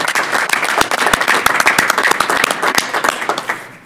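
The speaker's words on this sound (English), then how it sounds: "Let's have a round of applause for these gentlemen." Loud, close applause from the audience at a city council meeting, many hands clapping with sharp individual claps standing out, tapering off at the end.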